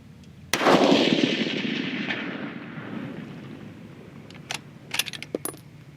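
A rifle fires a single loud, close shot during powder charge weight testing, its boom rolling off over a few seconds, followed by light metallic clinks of handling.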